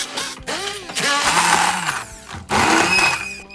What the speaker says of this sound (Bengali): হ্যান্ড ব্লেন্ডারটা দিয়ে খুব সুন্দর ভর্তা হয়ে যায়